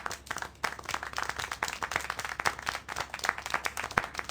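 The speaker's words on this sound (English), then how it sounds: "How can you clap?" Applause in the Syberia The World Before video game, with a steady patter of hand claps that sounds moderately distant and fairly quiet and goes on with no talk over it.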